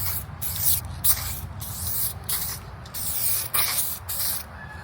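A spray can lays down light coats of satin black paint in a driveway, giving repeated short hissing bursts with brief pauses between passes, close and steady.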